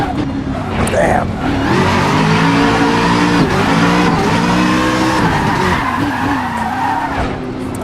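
A car drifts in Assetto Corsa with a sustained loud tire squeal over a high-revving engine, the pitch wavering as the slide goes on, close and continuous, with someone talking.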